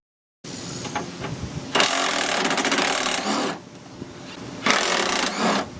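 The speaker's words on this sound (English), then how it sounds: "Now I'll go ahead and remove the 2 10mm bolts holding the headlight in." Two 10mm bolts come out of the headlight on a 2002-2008 Dodge Ram, two loud, close bursts of a whirring power driver, each lasting a couple of seconds, with quieter handling noise between them.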